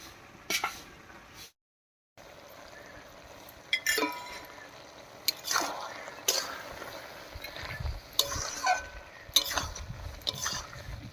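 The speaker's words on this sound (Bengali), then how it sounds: "এক চামচ চিনি দিয়ে একটু নাড়িয়ে নিয়ে নামিয়ে নিচ্ছি" A vegetarian bottle gourd curry with sugar just added is stirred in a pot, with spoon clinks and soft scraping in short bursts, fairly close, alongside some background talking.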